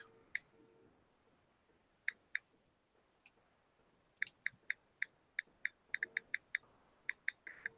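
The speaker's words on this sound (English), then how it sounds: "So I'm listening to Sonia and Rodney just typing away there." Morse code typed out by radio operators and heard over a radio, a series of short, sharp beeps in irregular clusters, quiet and alone with no talk.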